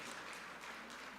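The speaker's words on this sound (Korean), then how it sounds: "우리 박수로 하나님께 영광 올려드립시다." A congregation at a Korean church Sunday service applauds, a steady wash of clapping that sounds distant and faint, without speech.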